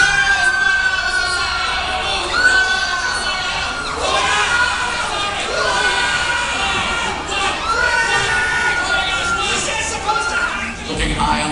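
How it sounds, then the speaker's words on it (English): Riders screaming together on a Universal Studios Hollywood ride, with loud sustained shrieks and cheers from a crowd rising and falling in waves across the whole span. "All right, get ready to scream."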